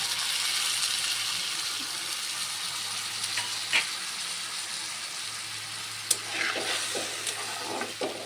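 Fried potatoes go into a frying hilsa fish curry with a steady, moderate sizzle, broken by a couple of sharp clinks of a spoon against the pan.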